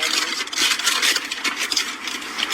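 A steady, airy whoosh of an air conditioner running, broadband and continuous with slight fluctuations, and no voices.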